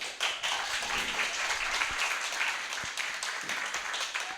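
Audience applause at an open mic poetry night in a creative cafe, a steady, moderately loud patter of many hands clapping throughout with a few sharper individual claps standing out.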